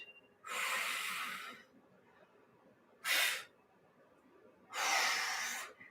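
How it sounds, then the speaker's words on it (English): A person doing a seated dumbbell press breathes out forcefully three times, close to the microphone: two long, hissing exhales around a shorter, sharp one, with quiet gaps between. "breathe out."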